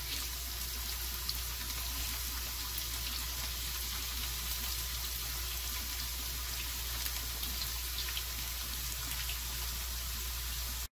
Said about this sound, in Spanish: Ponemos las tajadas con mucho cuidado para no generar quemaduras por la salpicadura del aceite.